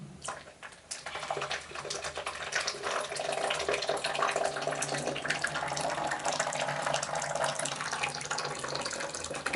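Water poured steadily into a teapot to rinse and warm tea leaves, a continuous splashing flow that swells after a brief quieter start and carries on evenly, close and moderately loud.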